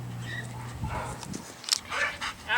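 A dog at an animal shelter whimpers and yips in short, uneven bursts, fairly close, with clattering and faint human voices around it.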